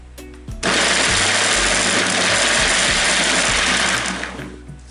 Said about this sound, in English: I'm going to be blending it now and I'll show you how I'll put them in the nylon.